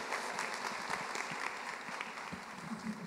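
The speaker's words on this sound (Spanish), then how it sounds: "Muy bien, muy merecido el aplauso." Audience at a congress panel on adolescents applauding after a talk, a steady patter of many hands clapping, fairly faint and distant in the room, continuing evenly throughout without voices.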